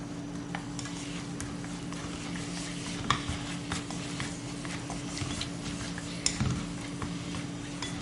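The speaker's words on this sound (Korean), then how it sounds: "이 소스를 넣어서 먼저 좀 볶아줄 거예요" Japchae meat and vegetables stir-fried with sauce in a pan, a soft continuous sizzle with occasional scraping clinks of a utensil against the pan, no talking.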